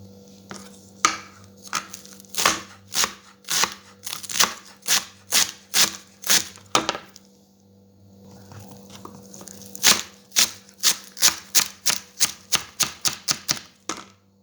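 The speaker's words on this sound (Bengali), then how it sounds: "এইভাবে সব গাজরগুলো আমি কাটিয়ে নেব।" A knife chops through carrots on a board in quick, crisp, evenly spaced strokes, loud and close, in two bursts separated by a short pause, with no talking.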